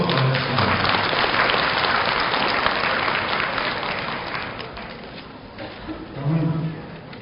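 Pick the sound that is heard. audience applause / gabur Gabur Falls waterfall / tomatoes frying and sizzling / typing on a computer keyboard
audience applause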